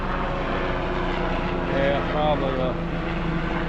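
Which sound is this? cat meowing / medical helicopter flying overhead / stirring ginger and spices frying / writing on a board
medical helicopter flying overhead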